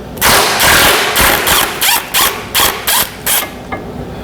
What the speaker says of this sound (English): Let's get these motor mounts loose